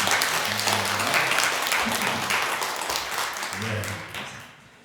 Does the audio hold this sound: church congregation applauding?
yes